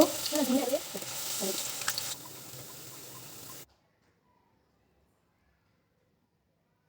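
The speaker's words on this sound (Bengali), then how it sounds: "আগে থেকে তেলটা গরম করে নিয়েছি। এবার ফুলকপিগুলো আমি দিয়ে দিব।" Cauliflower pakoras dropped into hot oil give a bright crackling sizzle with a stirring clatter, loud at first, then easing off before cutting out into near silence partway through.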